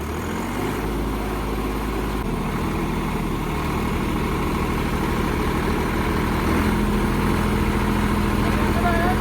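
A Farmtrac 50 tractor engine runs in high first gear at about 1600 rpm, a steady low diesel rumble that stays continuous and fairly loud throughout.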